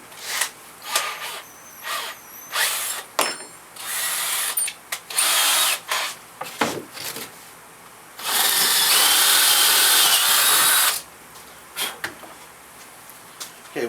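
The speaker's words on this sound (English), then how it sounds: "I'm going to go ahead and drill a 3/8 hole completely through" Power drill boring a 3/8-inch hole through a fish taxidermy mount, close and loud in repeated short whirring bursts, then one long sustained run near the end, with handling knocks between.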